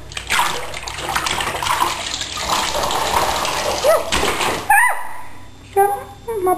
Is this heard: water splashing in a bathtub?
yes